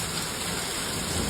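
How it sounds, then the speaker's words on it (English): Hail pours down during a storm in Saskatchewan as a dense, steady, close roar of pelting ice, continuous throughout with no voices. "Look at the hail coming down."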